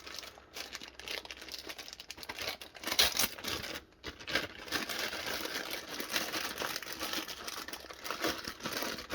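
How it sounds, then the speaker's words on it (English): Plastic packaging around an LED work light crinkles and rustles steadily and close up, with no one speaking. "Crinkle, crinkle, crinkle."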